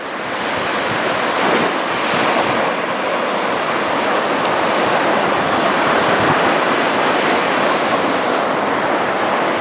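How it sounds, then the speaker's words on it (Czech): Rough sea waves break continuously on the Spanish shore, a loud, steady roar of surf with wind buffeting the microphone and no talking. "Dneska to moře zesiluje ve vlnách."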